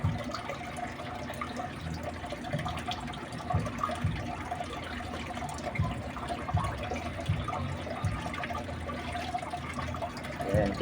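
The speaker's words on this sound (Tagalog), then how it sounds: "Minutes na lalagyan na natin ng water para po ma-adapt nila" Water is poured gradually into a container holding crayfish, making a steady trickling, splashing wash that runs continuously at close range with faint background clatter and no clear talk.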